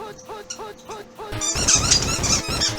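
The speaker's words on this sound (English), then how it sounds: "Looks like we found a squeaky toy." A squeaky dog toy squeaks in a quick repeated series of short, high, near squeals, then becomes louder and busier with rapid chewing squeaks and rustling, with no talk.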